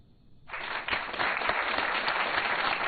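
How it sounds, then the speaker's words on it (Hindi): After a brief quiet start, a studio audience bursts into sustained applause that holds steady and fairly loud, a thick wash of many clapping hands. "तालियों को जरा रोक के रखिए"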